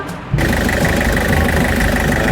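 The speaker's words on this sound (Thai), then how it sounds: "เครื่องดีมากเดี๋ยวเราไปฟังเสียงเครื่องยนต์กันครับผม" A 1997 van with a 2.8-litre diesel engine idles close by, starting abruptly after a short quiet moment and then holding a steady, rough, knocking drone that continues loud and even.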